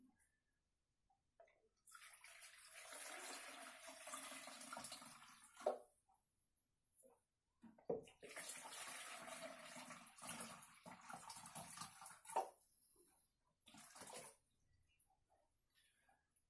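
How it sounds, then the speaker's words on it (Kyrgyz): Water poured from a container into several vessels, about a litre each, in separate bursts of splashing and gurgling with quiet gaps between pours, close and moderately loud. "Ар бир идишке 1 литрдан суу куябыз"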